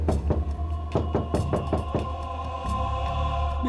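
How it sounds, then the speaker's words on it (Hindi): Knocking on a door in a Hindi horror drama: a series of sharp knocks in irregular clusters over a steady low hum and background music, fairly close, with no one speaking. "दरवाजे के अंदर धक धक हो रहा है।"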